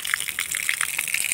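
A brief, steady rush of water gushing down like a small waterfall beside a road near a tunnel, loud and close with no voices.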